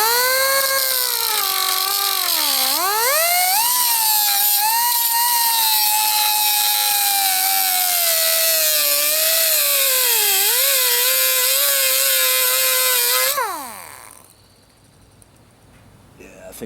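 Cutting tool whining steadily as it slices open the muffler of a Stihl 4-Mix backpack blower, loud and close, its pitch wavering for about thirteen seconds before winding down into near quiet.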